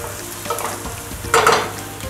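Chopped garlic, onion and zucchini sauté in a pan beside a fillet mignon steak, giving a close, steady sizzle with a brief louder hiss as the vegetables are stirred or added.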